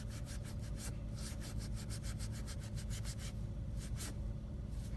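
Jordan sneakers scrubbed clean with a brush during shoe restoration, with fast rhythmic back-and-forth bristle strokes, loud and close, continuous with brief pauses.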